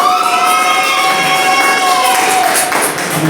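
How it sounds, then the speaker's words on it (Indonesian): Classroom applause during a lesson, a loud, dense wash of clapping held steady for a few seconds, with a thin whistling tone wavering above it. "Berikan tepuk tangan."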